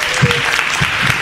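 Audience applause at a PechaKucha presentation night in Istanbul, close and fairly loud, with a few brief low voice bursts mixed in.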